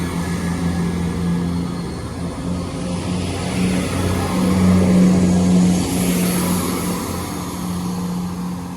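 Class 170 diesel multiple unit passing on a CrossCountry service through Tamworth, a loud continuous engine drone with a steady low hum and a mild swell in the middle, heard alone.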